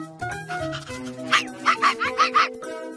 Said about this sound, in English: Here's my adorable puppy, Bella.